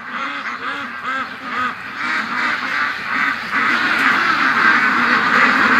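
Several ducks quack continuously and loudly nearby on a windy day, overlapping calls forming a noisy, agitated chorus with wind in the background.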